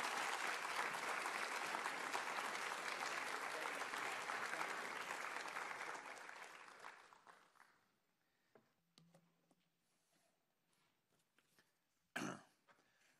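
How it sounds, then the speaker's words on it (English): Audience applause for a Muscogee (Creek) Nation speaker coming to the stage, a dense steady ovation that fades out after about seven seconds, leaving near-silence with scattered small noises and one brief burst. "give him a round of applause while he comes up here"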